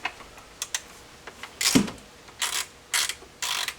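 Ratchet working T40 Torx bolts on a BMW E39 engine bay, sharp rapid clicking bursts in short separate runs with quiet gaps between, close and clear, no talk.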